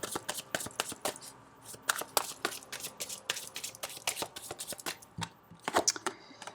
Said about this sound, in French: je vais tirer encore une carte.